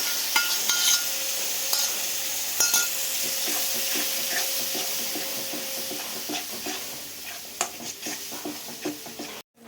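Yogurt is stirred into aloo kurma in a hot pan, giving a steady sizzle with scraping and clinking spoon strokes, close and continuous with no talk.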